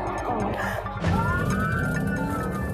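A police siren wails and sweeps in rising and falling tones amid traffic noise during a car chase through residential streets, with some voices mixed in underneath.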